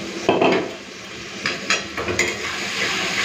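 Spice paste of salt, turmeric, chili and Kashmiri red powder with a little water frying in a pan, with several close stirring scrapes and clinks over a low sizzle.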